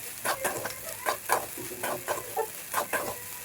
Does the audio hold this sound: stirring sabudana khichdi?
yes